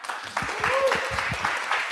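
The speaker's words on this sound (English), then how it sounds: "Let's keep clapping." Audience applause at a launch event, a moderate, steady patter of many hands clapping, with voices speaking over it.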